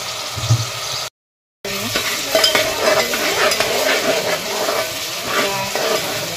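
Chopped onion and tomato sautéing in oil for a mushroom dish make a loud, close, steady sizzle, with stirring scrapes and one brief gap of silence, and no talking.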